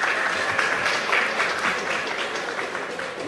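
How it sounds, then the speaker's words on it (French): Steady applause from an audience at a ceremony for trainee engineers, a dense wash of clapping holding at an even level throughout. "on applaudit"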